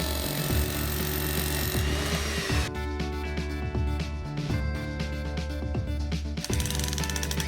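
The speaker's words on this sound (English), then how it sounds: "we use a drill to break through the rubber to create an opening in the wheel stop fixing points" A power drill grinds steadily through a rubber wheel stop at its fixing points, a loud continuous whine and rattle that shifts pitch partway through as the bit bites in.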